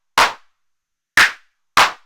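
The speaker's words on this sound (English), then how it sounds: "it certainly helps to create those classic clap sounds that you'll be familiar with" Three sharp synthesized clap hits from a Mutant Drums modular synth module, noisy and snappy with quick decay, the first isolated and the last two closer together, in silence.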